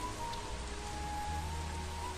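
Heavy night rainfall in a Hindi cartoon story, a continuous dense hiss of rain with a low steady hum underneath and no speech.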